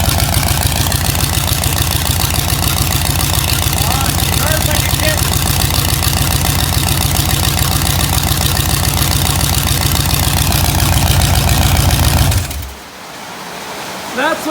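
A rebuilt 1980s car engine runs at a steady, loud idle with a dense, even rumble for about twelve seconds, then cuts off abruptly, leaving near silence.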